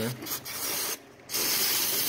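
An aerosol can of brake cleaner hisses in loud bursts of spray onto an electrical connector, with a brief pause between sprays and a short spoken word.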